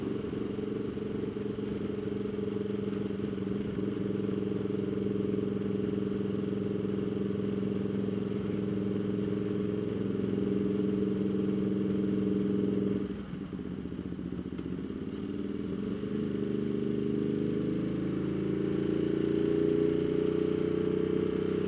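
Ducati Multistrada motorcycle engine droning steadily in gear at low road speed, a continuous rumble with rev changes around the middle and rising revs toward the end, close and loud, no talking.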